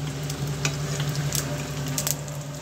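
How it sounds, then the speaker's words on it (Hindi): Mustard seeds and urad dal sizzle in a couple of tablespoons of hot oil, a steady crackling fry with scattered sharper pops and stirring scrapes throughout, close and continuous with no voices. "एन्ना काञ्चिच्चि कडुगु उलुत्तम पर्प्पु रेंडा ओन्ना पोट्टुक्करेन"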